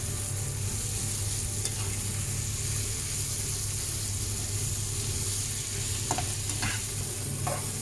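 Devilled potatoes fry in a pan with a constant, even sizzle throughout, joined near the end by a few light stirring clicks, moderately quiet and without any talking.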